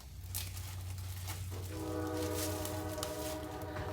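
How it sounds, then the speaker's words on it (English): A passing train rumbles loud and steady throughout, with a sustained multi-tone horn chord sounding in the second half over the continuous roar of the rail cars. "Train."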